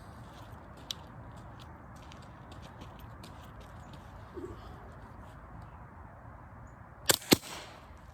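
A Hatsan Sortie .25 caliber air rifle fired at a coconut seven yards away: after a stretch of quiet background, a sharp close crack with a quick follow-up impact sounds near the end.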